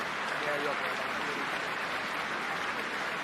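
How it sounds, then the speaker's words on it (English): Sympathetic applause from a large stadium crowd at Scotstoun during a Glasgow Warriors rugby match, a steady, diffuse wash of clapping that holds evenly throughout without breaks. "sympathetic applause from another large crowd here at Scotstoun"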